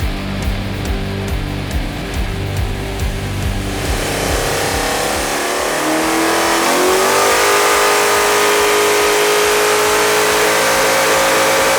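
A drag wagon's engine on a dyno during its first pull on nitrous opens with a choppy, pulsing idle, then roars up into a loud sustained rev whose pitch climbs steadily before holding at a high, strained wail.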